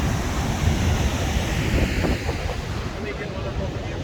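Water crashes down a steep hillside near Juneau, Alaska, making a continuous broadband roar and hiss of spray, buffeted by wind noise on the microphone.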